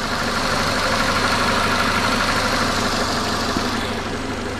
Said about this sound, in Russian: вот как должен гудеть мотор